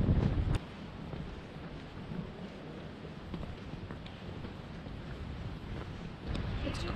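Steady wind blowing across a hilltop lookout on Mt Victoria in Wellington, a constant rushing roar with gusts buffeting the microphone, louder at the start and end.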